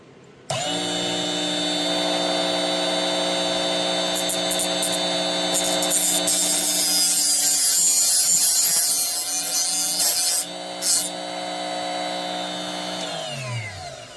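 A JobSaver Pro sharpener grinds teeth into an oscillating multi-tool blade, a steady high-pitched motor whine with harsh grinding during the plunge, running loud and alone for about thirteen seconds before spinning down.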